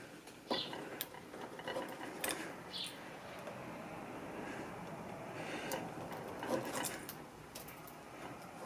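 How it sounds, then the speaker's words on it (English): A hand chisel carves along a marked line in wood, making quiet, irregular scraping and shaving sounds with a few sharp ticks, faint and close, with no talking. "So I just put my chisel right on that line and just carve it out so that it's nice and even."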